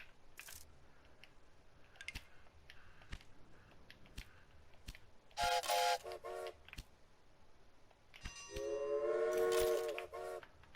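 Trains in the railway management game Railway Empire on an Australian map, with scattered mechanical clicks followed by two loud horn or whistle blasts, the second long and sustained.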